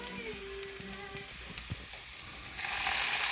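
Jalapenos, onions and other vegetables frying for chicharrones in salsa, a faint crackle and clinks of stirring that swell into a louder, steady sizzle near the end.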